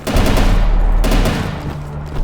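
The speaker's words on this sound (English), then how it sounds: "there's the machine gun" A machine gun resembling a crude flak cannon fires in the INCISION shooter game, loud rapid bursts of shots with booming low end, close and continuous, easing slightly before a final burst, with no talk.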